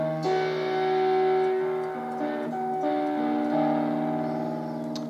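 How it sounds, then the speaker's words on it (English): A guitar chord rings out and sustains, then a few more chord tones are struck and left to ring. The tone is bright, full and close, with no voices. "And the chord sounds like this."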